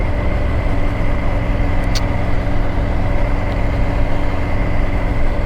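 A motorcycle engine runs steadily while out riding, a continuous loud low rumble and drone with no breaks and no talking.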